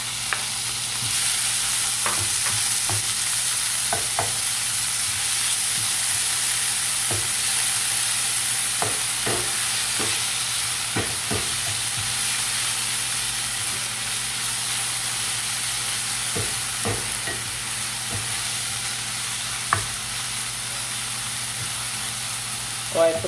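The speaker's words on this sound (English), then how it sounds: "I'm adding 2 tablespoons of oil. I'm going to add all of the freshly minced seasoning." Freshly minced seasoning with Scotch bonnet pepper fries in two tablespoons of oil. A steady, bright sizzle continues throughout, broken by intermittent scraping and knocking as it is stirred.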